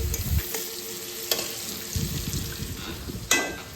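Chicken in masala frying and being stirred in a pan as part of a Bengali chicken kosha meal: a steady sizzle runs under repeated scraping stirs, with a sharper clatter near the end and no talking.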